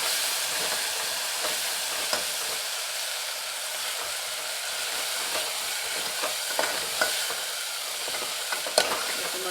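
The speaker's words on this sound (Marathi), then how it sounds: "मसाला परतून घ्यायचा कमी गॅसवर." Onion, garlic, tomato and ginger masala paste sautéing on a low gas flame in a pan for chicken curry, a soft steady sizzle with a few scattered clicks and stirring scrapes, no talking.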